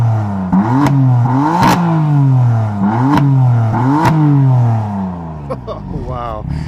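A 2016 BMW M4 sits parked while its engine is revved from the rear, about five loud, close throttle blips that rise and fall through the exhaust, with a few sharp clicks near the end.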